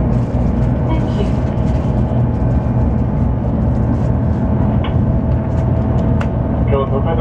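A steady low rumble inside a Shinkansen Hikari bullet train car bound for Tokyo runs throughout, with a chime-like tone near the end and a Japanese announcement voice faintly audible in the background.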